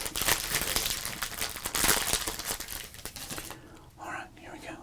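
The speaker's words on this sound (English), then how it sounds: "So I like opening up rack packs." Crinkling wrapper of a 1987 Topps baseball card rack pack being torn open, dense crackling plastic close up for several seconds, then softening to faint rustles with a quieter voice near the end.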